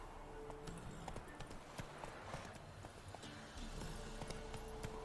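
Rhythmic clip-clop of Geralt's horse Roach galloping in The Witcher 3: Wild Hunt on PS4, with quick repeated hoofbeats over a soft game ambience throughout.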